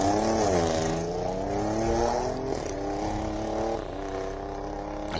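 A hill climb race car launches at the Simola Hillclimb, its engine note rising sharply through the gears before settling into a sustained, fairly distant roar.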